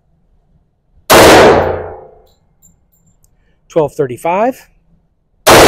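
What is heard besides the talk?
gunshots, Sig Sauer 10mm ammo from 3.8-inch Springfield pistol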